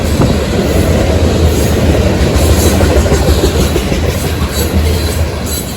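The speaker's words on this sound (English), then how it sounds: "I just barely got my cell phone recording in time to see the front of B651 passing me" Freight train B651, an ethanol train, rumbles past nearby on a CSX or NS line, with a loud steady roar and clickety-clack from the railcar wheels throughout.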